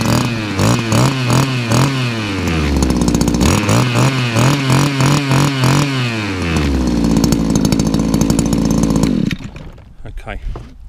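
A petrol hedge trimmer engine, just taken off the choke, runs loudly and close by with repeated revving bursts, then idles unevenly before cutting out near the end.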